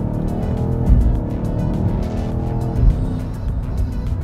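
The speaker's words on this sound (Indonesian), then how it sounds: "Gila, setiap kali ganti gigi ada suara dep-depnya." A BMW XM, a heavy, high-torque SUV, accelerates hard with a loud, steady engine roar, broken by two distinct thumping gear-shift pops about two seconds apart.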